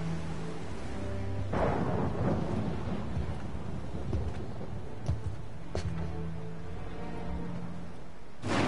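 Rain and rolling thunder from a PS4 video game storm, with heavy steady rainfall under repeated deep rumbles and a few sharper cracks, fairly loud throughout and without speech.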